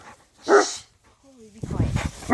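Dogs barking close by during play, with a sharp bark, a short whimpering whine, then a louder burst of barking mixed with a person talking.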